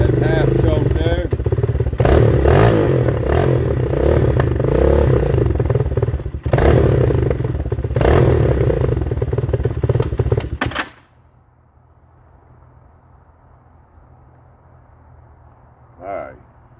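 A 2019 Hawk 250cc motorcycle engine running on half choke, loud and close with an uneven, clattering idle for about eleven seconds before cutting out abruptly, leaving near silence.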